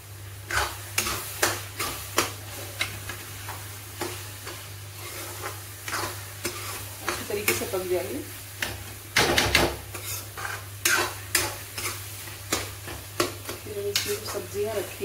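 Peas being stirred into pav bhaji in a pan, with repeated spoon scrapes and clanks in an irregular rhythm over a faint sizzle and a steady low hum, close and moderately loud.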